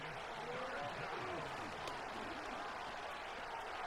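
A video game stadium crowd in Madden 25 cheers and roars in a steady, dense wash of noise that holds at the same level throughout.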